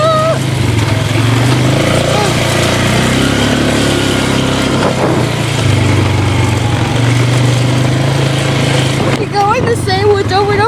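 An ATV engine running while riding through woods, a loud, continuous rough drone that rises and falls with throttle, with a person's voice breaking in near the end.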